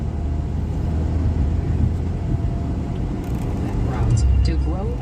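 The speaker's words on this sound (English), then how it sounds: "See what the Friday traffic brings us." Friday road traffic heard from inside a moving car on a road trip home: a continuous low engine and tyre rumble, swelling slightly near the end as other vehicles pass.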